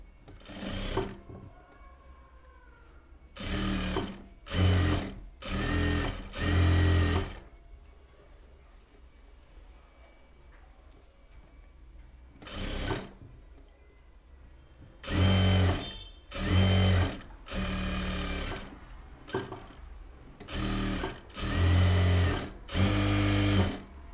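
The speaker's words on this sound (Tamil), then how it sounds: "பிசர் வந்து கீழ் பார்த்து தையல் போடுங்க" A tailor's sewing machine stitches a blouse in several loud, close bursts of buzzing motor and needle, each a second or two long, separated by quiet pauses.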